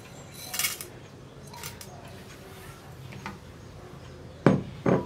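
A knife cuts potatoes into large pieces on a kitchen board, giving a few sharp, separated chops up close, with the last two knocks loudest over faint kitchen background.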